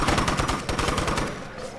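Rapid gunfire from a gun in the video game State of Decay, Juggernaut Edition, Daybreak mode, shots cracking out in quick, evenly spaced bursts, loud and close throughout.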